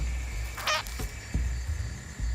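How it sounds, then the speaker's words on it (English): Near a swimming pool in Central America, a tree frog caught in a banded cat-eyed snake's jaws lets out a short, rasping distress call, followed by a few faint clicks over steady low background noise. "I heard this poor tree frog croaking."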